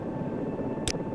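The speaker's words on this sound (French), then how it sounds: "Voyons voir un peu l'hélicoptère, dont on va arrêter les rotors. Le BK-117." A BK-117 helicopter in the SAR4 rescue video game drones steadily with a whirring rotor and engine, close and continuous, with one short sharp click near the end.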